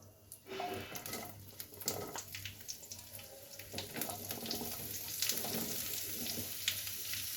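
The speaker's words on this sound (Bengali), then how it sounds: "কালো জিরেটা আমি ফোড়নে দিয়ে দিলাম।" Black cumin seeds hit hot oil for a tempering, giving a soft, crackly sizzle with scattered little pops that runs steadily throughout, fairly quiet and with no talking.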